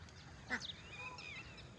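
Ducks on an open farm, a single near quack standing out over a low steady background hum, with faint further calls trailing after, brief and moderately quiet.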